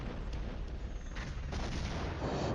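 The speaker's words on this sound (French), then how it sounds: "Là, mes mortiers frappent" Mortar fire in the Cold War wargame Flashpoint Campaigns: a dense, continuous rumble of distant explosions and booms with a few sharper impacts, steady and loud throughout.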